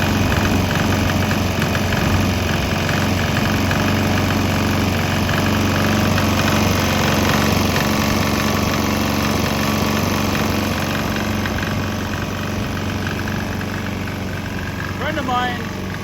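A small, cheap Chinese diesel engine running on waste oil runs steadily close by with a rough, slightly uneven idle and constant mechanical vibration throughout.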